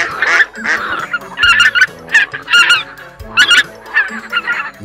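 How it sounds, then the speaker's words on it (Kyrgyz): Geese honking loudly and close by a pond in a rapid series of harsh calls, with a few fainter duck-like notes among them. "Бака, өрдөк, каздын каркылдагы угулат."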